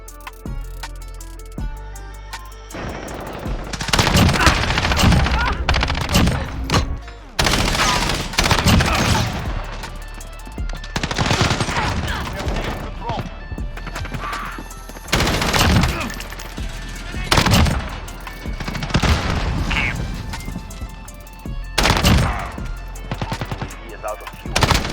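Automatic rifle fire in Call of Duty Modern Warfare, a weapon fitted with 45-round magazines unleashing long, loud full-auto bursts separated by short pauses across a multiplayer match, with a player talking over the shooting.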